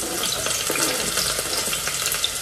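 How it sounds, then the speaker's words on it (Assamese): Chopped onions dropped into hot oil sizzle and crackle with a dense, steady hiss, close and fairly loud with no talking. "এতিয়া তেল গৰম হ'ল আৰু তেল গৰম হোৱাৰ পাছতে এতিয়া মই পিঁয়াজখিনি দি দিম"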